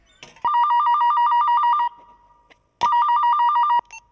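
A new cell phone rings with an incoming call: a loud, warbling electronic ring in two bursts, the first about one and a half seconds long, then a pause and a second shorter burst. No one speaks.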